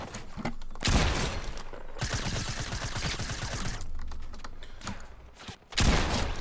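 Dense bursts of rapid gunfire from a Fortnite match, including pump shotgun blasts and rocket fire, loud and close, with several sharp heavy shots standing out from continuous rattling fire.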